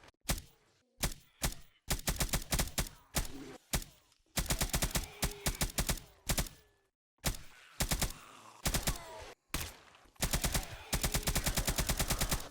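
Nail gun in 7 Days To Die firing in sharp rapid bursts: loud, closely spaced mechanical shots in short strings separated by brief pauses, with no talk over them.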